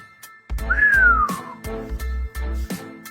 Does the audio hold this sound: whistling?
yes